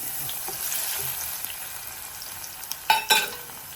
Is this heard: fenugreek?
yes